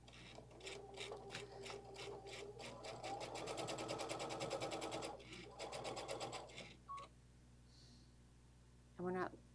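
A sewing machine runs a straight seam across the bottom of a bag lining, a steady close mechanical whir broken by short pauses, then stopping, with a brief voice near the end.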